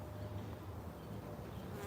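Honey bees buzz steadily during a hive inspection, a dense, continuous droning hum close up, with no talking.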